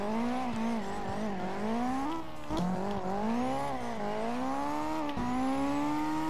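A drift car in CarX Drift Racing holds a continuous loud engine howl whose pitch rises and falls with throttle, with tire squeal and brief shifts or bumps, heard close and alone without talk.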